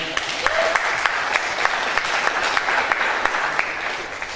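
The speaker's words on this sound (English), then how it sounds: "So let's give them a round of applause" An audience at a fan convention gives sustained applause for the volunteers, dense and loud clapping from many hands with a few sharper individual claps standing out, steady throughout.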